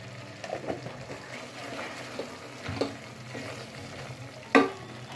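A spoon stirs masala with coriander powder and chili in a pan for a mixed vegetable bhaji, giving soft repeated scraping strokes over a light sizzle, with one sharper clank of utensil on pan near the end.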